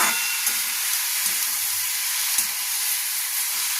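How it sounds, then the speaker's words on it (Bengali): Cucumber shukto sizzling in a pan as it is stirred, a steady bright frying hiss with a few soft scrapes and clinks from the stirring. "এবার এটা নাড়াচাড়া দিয়ে"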